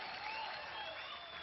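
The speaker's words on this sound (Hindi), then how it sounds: "जोरदार तालियां निकले हैं।" An audience at an India's Got Talent show applauds in a dense, sustained burst of clapping that holds evenly for the whole moment.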